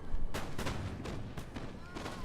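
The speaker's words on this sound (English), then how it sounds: "these German Fusiliers don't have a very good line of sight. Firing up onto the hill." Musket volleys from German Fusiliers in Napoleon: Total War, firing uphill at a ridge: several broad cracking bursts about a quarter second apart over a continuous low battle rumble, with a voice talking faintly underneath.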